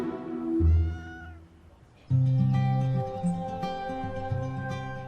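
A cat meows repeatedly at a rescue charity's rehoming cattery, with a long, drawn-out cry followed by a string of loud, close, tonal meows after a brief pause.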